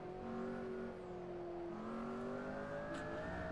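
A McLaren P1 in Assetto Corsa on a road course, its engine droning with rising tones and a faint high whine of the turbo spooling above it, steady and sustained over several seconds.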